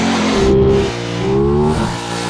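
An Aprilia Tuono 660 motorcycle engine revs up, drops back, then revs again, a loud close mid-pitched rising and falling howl over about two seconds with no talking.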